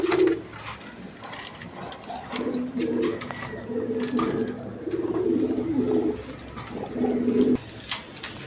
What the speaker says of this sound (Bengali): এইখানে এক পেয়ার ফিল্ডব্যাক কবুতর আছে দেখেন